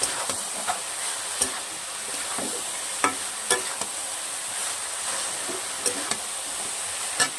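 A vegetable chop mixture with fried peanuts sizzles steadily in a pan as it is stir-fried, with sharp scraping clicks from the spatula every second or so and no talk over it.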